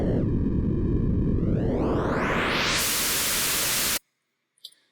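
A noise oscillator in the Massive software synthesizer has its noise color modulated, a loud hissing wash that sweeps steadily brighter and combed, then cuts off abruptly, followed by a faint brief blip.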